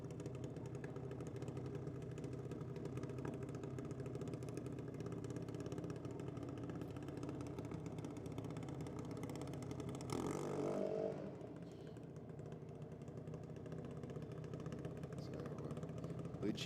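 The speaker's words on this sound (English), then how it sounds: "He's a junior dragster for Lucci Civil." A junior dragster engine idles at the start line of a drag strip, a steady mid-pitched drone running throughout with a brief louder rise partway through, over which a commentator talks on the public address.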